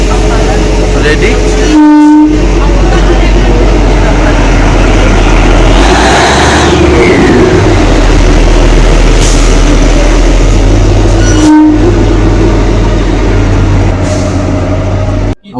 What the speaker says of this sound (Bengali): টয় ট্রেন যুক্ত হয়ে গেল ইঞ্জিনের সঙ্গে